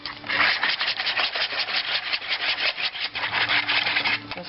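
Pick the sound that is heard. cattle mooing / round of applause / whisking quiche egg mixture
whisking quiche egg mixture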